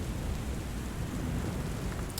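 A thunderstorm in the video game Book of Hours, steady heavy rain with a low rumbling wash, dense and continuous throughout, no talk.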